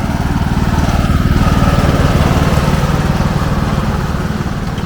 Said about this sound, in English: Look at the tractor guy.